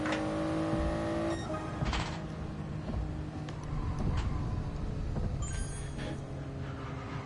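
A Ferrari Enzo's engine in a racing game drones steadily, with revs rising and falling and occasional sharp shifts and clicks over the continuous motor note.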